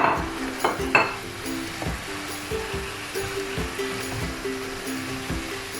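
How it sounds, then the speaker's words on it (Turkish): Sliced, peeled mushrooms hit a hot pan and sizzle steadily, with a few louder clatters and scrapes of stirring near the start, then a constant frying hiss throughout. "Şimdi üzerine mantarlarımızı ekliyoruz."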